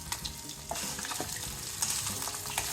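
Quail eggs frying in a hot pan, a steady loud sizzle with scraping stirring strokes and occasional sharper crackles throughout.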